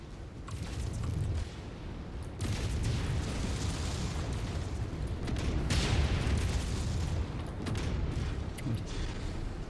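In the MechWarrior 5 video game, targets are destroyed by a run of dense, rumbling explosions and booming bursts that overlap continuously, loud and close, with no talk.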